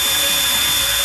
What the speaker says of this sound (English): if you get a good drill bit and you got a good cordless drill